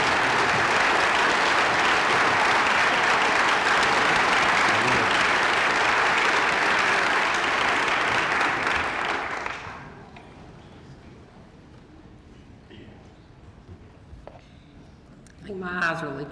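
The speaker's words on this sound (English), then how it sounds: "I think that deserves a standing ovation." Loud, sustained applause from a large audience at a Sardis High School 2025 graduation ceremony, standing ovation, lasting about ten seconds before dropping away to quiet room tone with a brief voice near the end.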